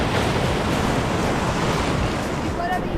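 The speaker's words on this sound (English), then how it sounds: "We'll get up on here before the wave comes." Rough ocean waves surge and wash over rocky tide pools in a continuous close roar of surf, with wind noise mixed in and a brief faint tonal sound near the end.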